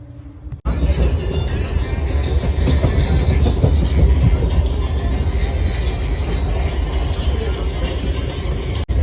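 A train rumbles loudly from close by, heard from on board, after a brief quieter start, with steady low roar and faint rhythmic clatter of wheels on track.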